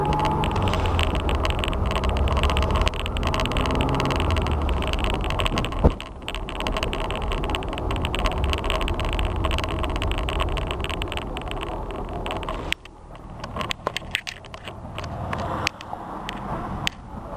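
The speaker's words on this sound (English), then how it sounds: "Clutch is strong, engine strong." A 1972 VAZ 2101, the Fiat 124-based sedan, runs with a steady engine drone close to the microphone, holding even for several seconds before a brief dip and then returning with uneven mechanical rattles.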